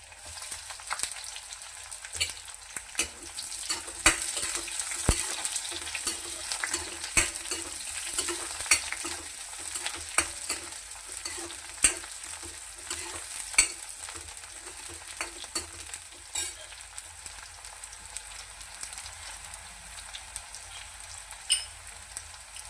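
Onions sizzle steadily in a hot pan as they fry for a Maharashtrian summer chiur bhaji, with frequent scraping clicks of a spoon stirring through them, moderately close, and no voices.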